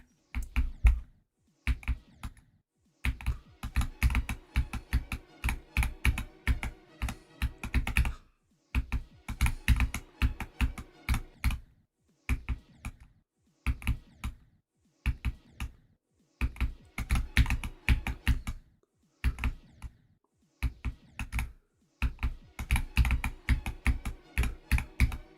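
Typing on a Wooting mechanical computer keyboard, close and crisp, in bursts of rapid clacky keystrokes separated by short pauses, with no voice.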